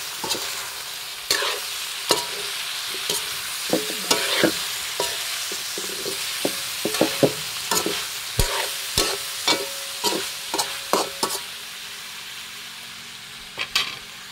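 Pieces of stingray fry in hot oil in a pan with a steady sizzle, broken by sharp pops and crackles that come at irregular intervals, close and fairly loud, with no talking.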